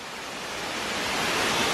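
Jones Falls, a waterfall on a blue-blazed side trail of the Appalachian Trail, pours in a steady, dense roar that swells slightly louder as it draws nearer, with no voices over it.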